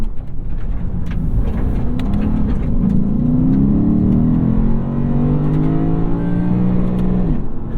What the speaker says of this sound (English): Lexus rev limiters are the best